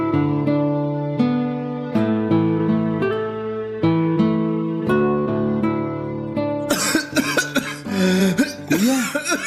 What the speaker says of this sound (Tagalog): Masama na yung ubo mo